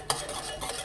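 A spoon works through a milk mixture for kharvas made from plain milk, with no colostrum. A sharp scrape opens the stir, then softer swishing strokes follow, close and brief.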